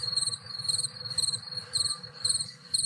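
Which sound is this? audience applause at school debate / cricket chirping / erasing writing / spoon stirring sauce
cricket chirping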